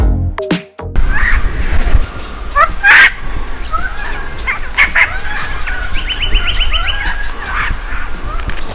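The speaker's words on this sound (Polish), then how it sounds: "Głosy ptaków są kompletnie wariackie." Wild birds on an Australian hiking trail among palms, loud and varied: repeated squawks, rapid chirps and a trilling run over a constant background chorus, with a short sharp knock near the start.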